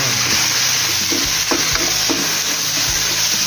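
Squid and pork stir-frying with red curry paste and long beans in a hot pan, a steady loud sizzle with occasional scrapes and clanks of a spatula against the metal.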